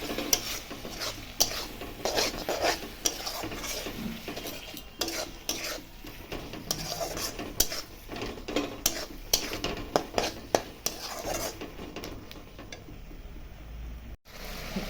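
A spice paste of cumin powder and Kashmiri chilli powder fries in a pan while a utensil scrapes and stirs it steadily, with a continuous sizzle and frequent clinks against the metal.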